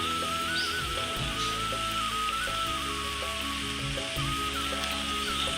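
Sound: chopped onion added to hot oil, sizzling

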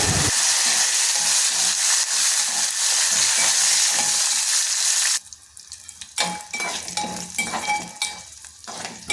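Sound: frying peanuts, cumin and dried red chillies in a pan

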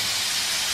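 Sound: steak sizzling as it is flipped in the pan

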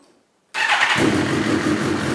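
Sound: Suzuki GSX-R1000 motorcycle engine cranking and starting

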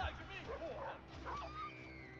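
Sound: dog whimpering in video game Battlefield 4

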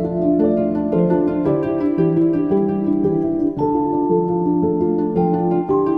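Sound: celeste doubling woodwinds with shimmery sound

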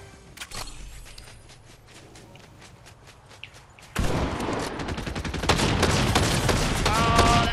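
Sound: Mammoth Pistol gunshots in Fortnite video game

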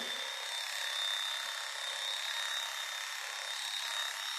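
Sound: electric clippers shaving cat fur before surgery

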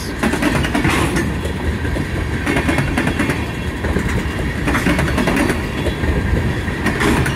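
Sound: Conrail freight train with tank cars passing

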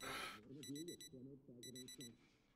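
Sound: wristwatch alarm going off in video game Project Zomboid

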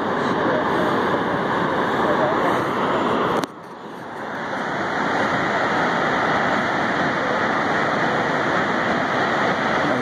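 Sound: Shoshone Falls waterfall in Idaho

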